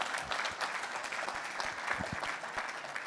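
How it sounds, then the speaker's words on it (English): A panel discussion audience applauds steadily and fairly close, dense clapping filling the room for a few seconds with no talk over it. "Let's give everybody a round of applause."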